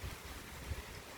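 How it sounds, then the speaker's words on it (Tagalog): Cold, very strong wind blowing, a low rushing rumble with buffeting gusts hitting the microphone, fairly faint and brief, without speech. "Katugnaw ang hangin."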